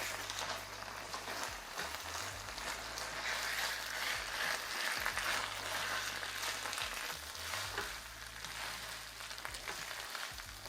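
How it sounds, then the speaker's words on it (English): Steady bubbling sizzle of spaghetti simmering in sauce in a pan, continuous and fairly close, with no voices. "we're gonna let this cook down until they absorb even more of our sauce"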